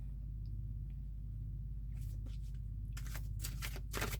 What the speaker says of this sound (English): This is kind of very difficult to shuffle